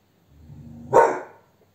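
A single sharp dog bark rings out close by after a low rumbling growl, then fades quickly into silence.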